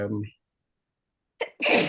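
A single sharp sneeze bursts out after a moment of silence, preceded by a brief snatch of speech.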